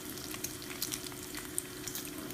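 Thin bacon frying in a pan gives a steady, close crackle and sizzle, with small pops scattered through the hiss and no voices.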